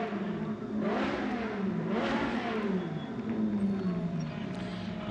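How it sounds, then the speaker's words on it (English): Race cars at the 2016 Coppa Shell round at Jerez de la Frontera rev hard as they roll into the pit lane, engines rising and falling in two clear surges over a continuous mid-distance roar. "Lots of revving, as you can hear, as the cars make their way into the pit lane."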